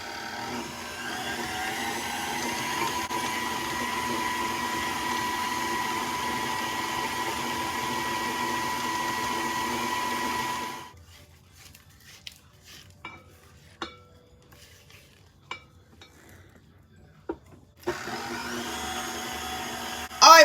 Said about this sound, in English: we're going to cream these on medium speed until they're fluffy